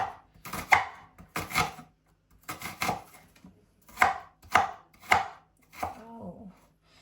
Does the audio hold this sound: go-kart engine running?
no